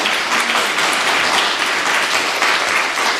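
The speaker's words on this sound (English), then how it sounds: "Can we give them a round of applause, please?" Audience applause at a county poetry recitation competition, a continuous, fairly loud wash of many hands clapping that holds evenly throughout, with no speech over it.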